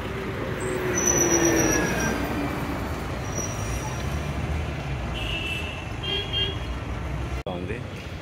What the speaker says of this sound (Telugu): ఎలక్ట్రిక్ బస్సు చూడండి ఎంత ఫాస్ట్గా వస్తుంది.